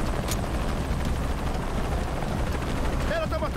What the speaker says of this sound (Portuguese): Sempre odiei helicópteros.